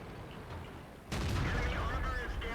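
Tank gun firing in a video game: a single sudden boom cuts in midway over faint background rumble, followed by a sustained loud roar and ringing tail.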